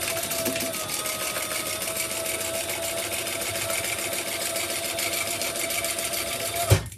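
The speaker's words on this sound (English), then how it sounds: "And then we're going to top stitch that." A sewing machine runs steadily while top stitching a tote bag, giving an even, continuous mechanical whir close by that ends in a short thump as it stops.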